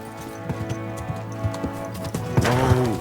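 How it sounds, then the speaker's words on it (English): A horse in Kingdom Come: Deliverance II clops along with steady hooves, then snorts and whinnies near the end, loud and close with a faint musical bed underneath. "Easy, good horse."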